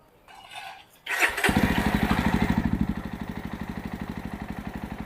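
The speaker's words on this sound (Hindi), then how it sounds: "इसका इंजन को फायर करते हैं।" A 2024 Jawa 350 motorcycle engine cranks and fires, catching with a loud burst before settling into a steady, close, rhythmic thumping idle in neutral.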